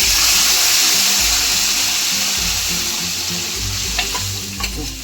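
Cooked toor dal poured into hot tempering with tomato, a loud, close, continuous hiss and sizzle with splashing, stirred as it settles.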